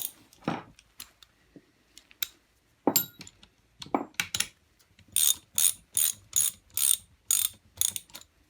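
Hand ratchet tightening nuts and washers on a three-phase Brook motor for a Harrison 11 lathe, giving scattered single clicks at first, then a fast run of evenly spaced ratcheting clicks, close and crisp with no talk.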